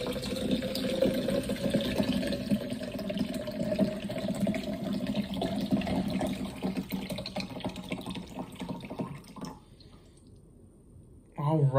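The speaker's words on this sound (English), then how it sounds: "So we're just pouring it in there" Non-carbonated G Fuel drink poured into a container, a steady watery trickle for about nine seconds before it stops, with quiet background hum.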